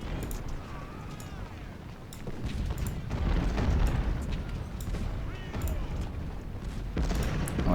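Cannon artillery booms and rumbling battlefield noise from Ultimate General: Civil War, a Union battle to secure a river, with repeated low blasts at a steady, fairly loud level and faint talk underneath.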